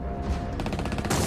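Gunfire sound effect played through loudspeakers to simulate a larger attack during the Normandy landings: a rapid burst of sharp, overlapping shots in a dense crackling volley, loud and close.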